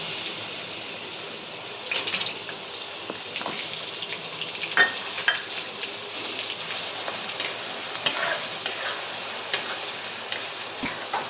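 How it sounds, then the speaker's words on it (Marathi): Onion frying in hot oil seasoned with asafoetida for Khandeshi baingan bharit, giving a steady, close hiss with light ticking crackles and occasional soft stirring scrapes throughout. "कांदा एकदम लाल नाही होऊ द्यायचा आहे, थोडा ब्राऊन होऊ द्यायचा"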